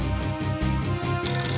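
An electronic telephone ringtone chirps loudly in a steady warbling pattern, then shifts to a brighter, higher tone, with no voices over it.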